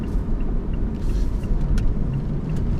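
A 2017 Mazda CX-3 Maxx 1.5 diesel taking a corner, its steady low engine and road rumble droning evenly throughout, close and fairly loud with no talk.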